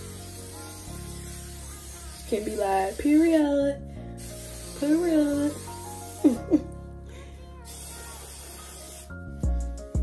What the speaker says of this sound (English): Make sure you spray the hair too